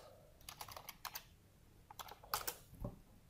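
Soft, close keystrokes on a computer keyboard come in short irregular bursts with brief pauses between them, entering a name into a spreadsheet.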